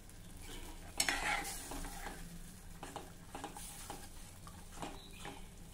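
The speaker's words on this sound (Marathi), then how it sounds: "आता आपल्याला हे एकसारखं ढवळत राहायचं आहे" Rice ukad cooking in buttermilk in a pot is stirred steadily, a soft scraping and thick bubbling sizzle with a few sharper knocks of the spoon against the pot, close and fairly quiet.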